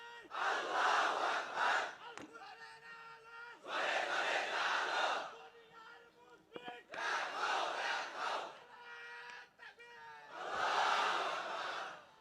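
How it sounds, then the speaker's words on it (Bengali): A large crowd at a Bengali religious sermon gathering shouts the takbir, Allahu Akbar, in four loud rhythmic call-and-response bursts with brief gaps between them. "এই হলো তাকবীর"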